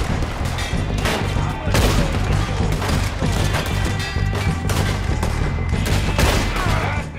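Lever-action rifle gunfire in Red Dead Redemption 2, with loud, dense volleys of shots and crashes over a continuous game soundtrack.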